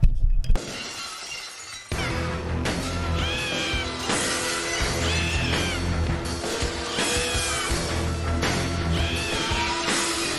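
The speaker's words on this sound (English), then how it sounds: "Glass breaking?" Glass-shattering sound effect: a sharp crash that opens into a long, bright spray of breaking and tinkling shards, loud and dense, with squealing, meow-like tones layered through the mix.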